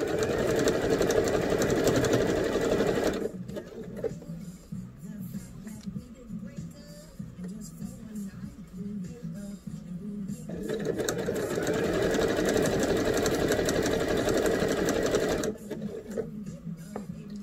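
A sewing machine runs a steady, close whirring stitch along a seam of a bell sleeve shirt, stops for several seconds, then runs again before pausing once more.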